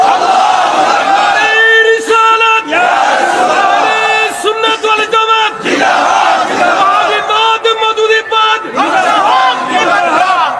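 A large crowd at a religious gathering shouts the takbir in unison, answering a call several times: loud, repeated collective roars in distinct bursts, close and powerful.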